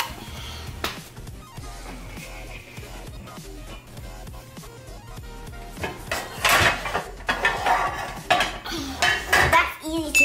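A child rummages through a kitchen cupboard full of pots and pans, hunting for the egg pan. Metal clanks and clatters build to loud, busy banging toward the end, and there is faint talk now and then.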